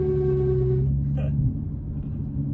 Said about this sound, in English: I'm stuck in a bunch of traffic, and that just means the exhaust drone gets really loud